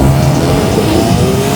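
A Mazda RX-7 rotary engine revs high and loud, a close, sustained buzzing drone with rising harmonic tones, alone without speech.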